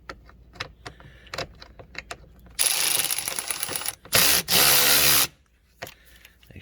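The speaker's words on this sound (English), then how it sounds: "putting these back in is basically just lining the screws up, getting your bit in place" A driver bit turning screws back into a Jeep sunroof, giving soft intermittent ratcheting clicks, then two longer bursts of dense, loud mechanical whirring before quiet clicks return.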